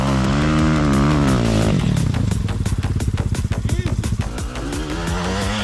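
A tuned GNS 300 enduro motorcycle engine runs loud and close, its steady drone breaking into a rapid chugging, popping idle midway before smoothing out again.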